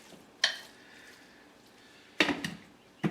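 A spoon scrapes and clacks through taco meat and salsa in a crockpot, with a sharp knock at the start, then a burst of stirring scrapes near the end.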